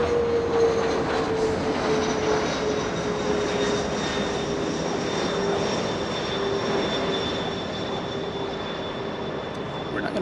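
A CRJ regional jet arrives at LAX in a slight crosswind, its engines a steady, moderately loud whine and rumble that fades slightly over time.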